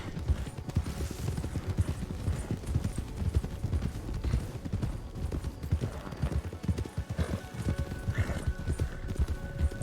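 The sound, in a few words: horse slowing into a lope, RedM video game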